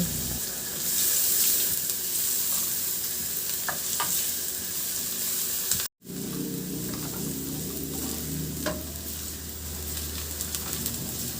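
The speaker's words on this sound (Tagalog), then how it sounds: "Magpainit muna ako ng mantika sa kawali at igisa ko na yung bawang." Garlic sautéing in hot oil in a pan gives a constant loud sizzle, broken by a few clinks of a utensil and a brief cut partway through.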